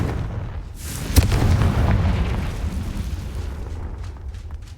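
A loud, close explosion from the Confringo fire spell in Hogwarts Legacy: a sharp blast followed by a rumbling, roaring burst that fades over a few seconds into crackling debris.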